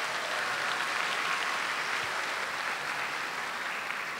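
At an entrepreneurship forum in the DECTAR hall at UKM, a large crowd keeps up thick, unbroken clapping at a steady, fairly loud level for several seconds, with no voices over it.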